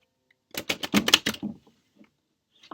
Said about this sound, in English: let's get a good shuffle going for you